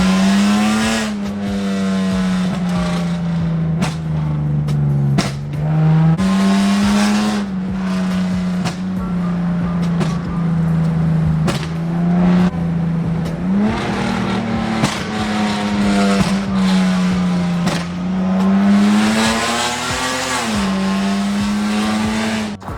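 A Lexus with a new loud aftermarket exhaust revving hard and repeatedly, the engine note rising and falling in loud close bursts, with sharp crackles and pops between revs and no talking.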